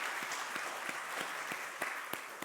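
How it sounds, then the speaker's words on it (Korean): A church congregation applauds in a steady patter of many hands during an Easter service, with a few sharper individual claps standing out, filling the room briefly. "우리 박수로 한번 서로 드리겠습니다"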